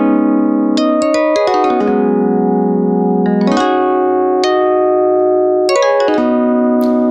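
A dry modular synth patch, Ornament and Crime sequencing Rings, plays plucked resonant tones in a stepping melodic sequence, each note ringing and gliding into the next, loud, clear and with no reverb.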